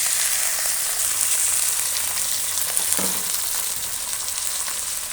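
Chicken breast sautéing in a pan for Filipino tinola, a steady loud sizzle and frying crackle with a brief stir clink partway through, close and continuous with no talking.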